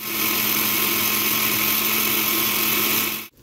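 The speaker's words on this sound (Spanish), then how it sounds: "Aquí en la licuadora le vas a echar cuatro jitomates, ajo, cebolla y échale un chingo de chile" A kitchen blender whirs steadily as it grinds four tomatoes with garlic, onion and plenty of chili into salsa, a loud continuous motor drone that runs unbroken for about three seconds before cutting off abruptly.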